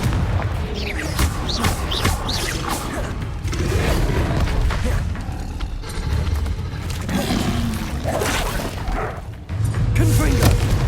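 Confringo blasting-spell explosions in Hogwarts Legacy come as a dense, continuous barrage of booms and crackling blasts under the battle noise. A voice is faintly present.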